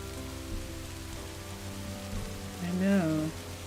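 Rain in Minecraft falls as a steady soft patter under game background tones, with a person speaking briefly near the end.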